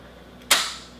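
A single sharp, loud report from a Russian AGS-17 Plamya 30mm automatic grenade launcher firing, a close crack followed by a short decaying echo.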